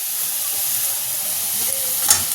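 Ground spice paste with finely blended onion sizzles and hisses steadily in hot oil in a pan, a continuous close frying sound with a brief stir clatter near the end.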